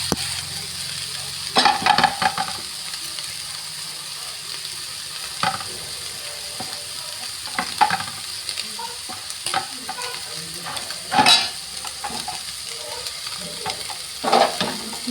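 Boiled chicken being stirred in a frying pan with a little salt for a sandwich filling, a low background sizzle punctuated by repeated sharp spatula scrapes and knocks against the pan.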